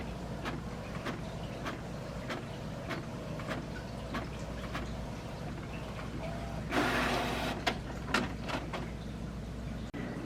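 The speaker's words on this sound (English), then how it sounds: "I'm going to test print that" A home printer runs a test print of an art print, with a continuous mechanical whir broken by regular ticking pulses and a louder grinding burst partway through.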